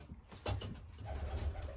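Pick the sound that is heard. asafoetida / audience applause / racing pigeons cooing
racing pigeons cooing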